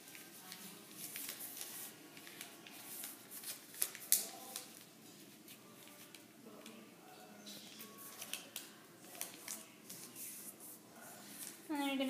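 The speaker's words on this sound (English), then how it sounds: "you're gonna fold it again this way" Origami paper folded into a ninja star, soft crinkling and creasing rustles scattered throughout, close and quiet, with a few sharper crackles.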